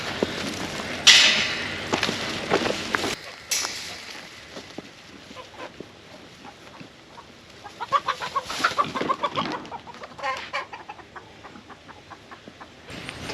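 Chickens cluck and squawk in scattered bursts, fairly close, with a few louder calls standing out against quiet outdoor background.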